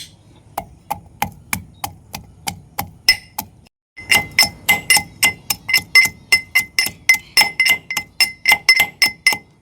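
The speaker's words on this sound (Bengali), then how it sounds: "এবারে আমি আদাটা আর হলুদটাকে এইভাবে পেস্ট করে নেবো" Ginger and turmeric are pounded into a paste with evenly spaced sharp knocks, a steady rhythm that pauses briefly then resumes slightly faster, close and loud.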